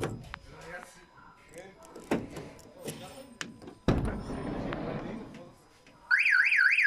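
Movement, talking and a door thud come first, then a 2020 Dacia Dokker's CAN-bus car alarm siren suddenly starts wailing loudly in a fast warble near the end.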